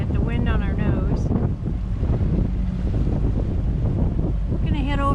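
Boat headed for Port Orchard, motoring into a headwind on choppy water: loud, steady wind buffeting the microphone over a low engine rumble and splashing, with someone talking throughout.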